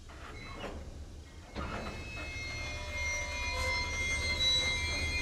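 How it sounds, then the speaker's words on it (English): A CSX freight train moves forward through a rail yard after the engineer notches out, a low steady rumble with faint squeals and metallic tones building gradually over several seconds, no voices. "As the train proceeds,"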